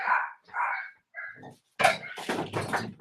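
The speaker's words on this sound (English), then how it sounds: "You shut the door so you don't have to listen to my dogs bark" Dogs bark indoors in several short bursts, fairly faint as if muffled behind a closed door, with a few whimpery yips between the sharper barks.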